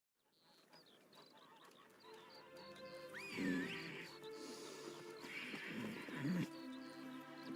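Roach, Geralt's horse in The Witcher 3, gives a couple of whinnying neighs amid outdoor ambience with birds, each call rising briefly above a steady background.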